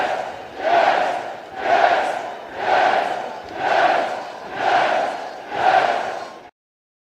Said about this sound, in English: And then the crowd is just going to come back with it.